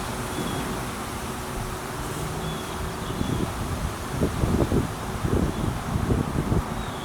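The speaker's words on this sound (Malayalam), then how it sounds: "നല്ല സൂപ്പർ കാറ്റ് വീശുന്നുണ്ട്" Strong wind blows through a home garden with tomato plants, a soft continuous rush with rustling gusts that swell louder in the second half, and nobody speaks.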